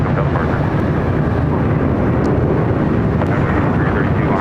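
Airplane taking off at LAX, a loud continuous broadband engine roar with wind rumble, steady and close throughout.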